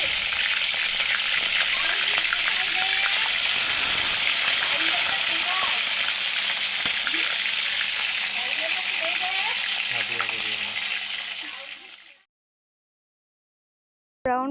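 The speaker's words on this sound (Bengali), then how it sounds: "ভাজার জন্য পরিমাণ মতো তেল কড়াইয়ে দিয়ে প্রতিটা পিস গরম" Chicken pieces fry in hot oil in a wok, making a loud, continuous sizzle and crackle close by for about twelve seconds before the sound cuts out.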